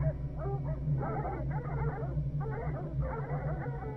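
A dog in the horror video game Interior Worlds barks and whimpers, a run of yips and whines over a low steady hum, fairly close and moderately loud.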